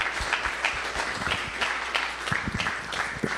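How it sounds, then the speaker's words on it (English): A church audience applauds to welcome a pastor to the stage, steady dense clapping throughout that sounds close and fairly loud. "let's please welcome up with a warm round of applause"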